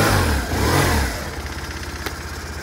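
Motorcycle engine revving up loudly close by, then dropping back to a lumpy, pulsing idle with a brief sharp tick near the end.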